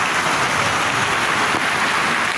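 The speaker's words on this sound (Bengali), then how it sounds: "শান্তির বৃষ্টি" Rain pouring onto a tin roof, a dense steady hiss of drops drumming on the metal, loud and close, with no talk.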